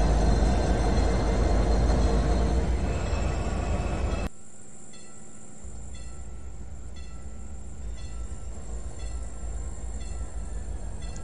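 A train in the video game Trainz 2019 rumbles with a low mechanical drone, then the sound drops abruptly and a quieter, steady rumble carries on; no speech.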